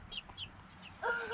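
Chicken in a chicken tractor giving a few faint clucks, then a louder, clearer call near the end, soft and fairly close in a quiet setting.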